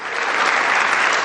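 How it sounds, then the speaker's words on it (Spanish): A church congregation claps together in loud, continuous, dense applause throughout. "Dale una ofrenda de palmas al Rey de la Gloria."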